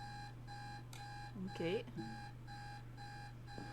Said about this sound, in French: Un réveil matin.